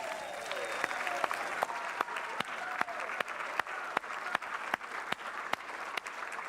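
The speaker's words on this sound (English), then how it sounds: "Let's give the kids one more round of applause." A church congregation applauds children at a Sunday service, a steady wash of clapping with a few sharp, distinct claps standing out at regular intervals, fairly close and sustained throughout.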